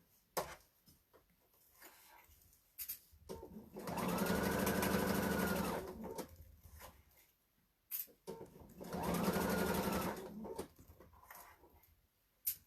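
A sewing machine with a quarter-inch foot stitches a pillowcase in two separate bursts of steady whirring, each a few seconds long, with quiet handling clicks and rustles in between.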